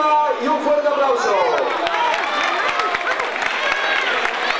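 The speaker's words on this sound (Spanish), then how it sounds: "un fuerte aplauso" A crowd applauds and cheers steadily at a running race awards ceremony, clapping blending into a dense wash of sound with some voices mixed in.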